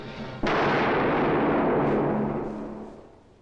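A single loud gunshot sound effect from a 1962 film, a sharp blast at the start followed by a long rumbling decay that fades over about three seconds, with no talk.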